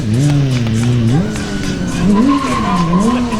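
Motorcycle tires squeal loudly and continuously at a stunt show, the high wavering screech rising and falling over a steady engine roar, close by.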